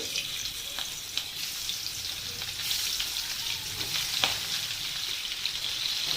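Shol fish sizzle and spit in hot mustard oil over a lowered flame, a steady close hiss with occasional crackling pops and no talk.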